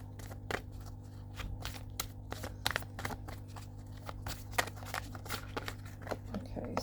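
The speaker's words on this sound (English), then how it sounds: "these ones are called astrological reading cards." Astrological reading cards being shuffled by hand, a soft run of rapid papery riffles and taps at close range over a low steady hum, with no talking.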